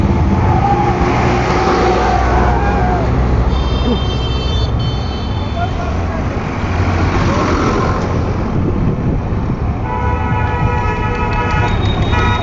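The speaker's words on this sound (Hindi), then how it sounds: "लगातार ट्रैक्टर्स किसानों से भरे हुए चले आ रहे हैं" Tractors packed with farmers roll past one after another during a protest rally near Najafgarh, Delhi, a loud, steady wash of engine rumble and traffic noise with a passing vehicle surge, and voices mixed into the din.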